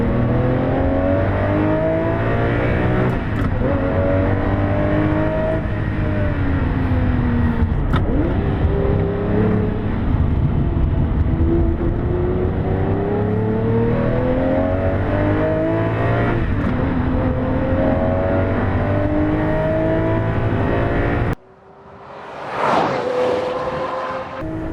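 A race car at Sandown accelerates hard out of a corner, its engine loud and close and climbing repeatedly through the revs with gear-change dips. The sound cuts off sharply near the end, leaving a brief quieter rush.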